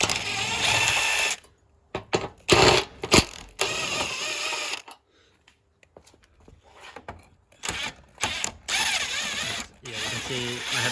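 A ratchet backs bolts for a Mitsubishi CE Mirage headlight out of the fender, its pawl clicking in several fast bursts separated by pauses and a few metallic taps, up close.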